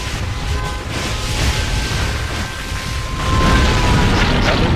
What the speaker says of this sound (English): nuclear missile launch